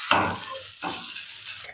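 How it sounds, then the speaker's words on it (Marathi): Poha vadas frying in a shallow pan, two short bursts of sizzling hiss as pieces are turned, close and fairly loud with no voices. "आणि आता मी पटापट छान असे दोन्ही बाजूंनी भाजून घेते"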